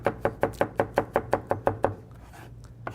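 A chef's knife rock-chops garlic on a cutting board in a quick, steady run of about ten crisp, close taps, then a pause before one last tap near the end.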